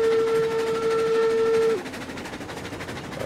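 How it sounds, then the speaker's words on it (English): A little logging train hauling cordwood in the railroad game RailRoads Online sounds a loud, steady whistle that cuts off partway, leaving a running rumble of the train underneath. "Not a bad looking little wood train, logging train, cordwood train, whatever you want to call it."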